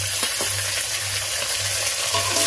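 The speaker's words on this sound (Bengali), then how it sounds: "তো জিরেটা একটু হালকা করে নেড়ে নেব। আলুর সঙ্গে ভালো করে মিক্স করে নেব।" Cumin paste being stirred into fried potatoes in a hot pan, with a steady sizzle of frying and soft scraping strokes of the spoon, close and continuous with no talk.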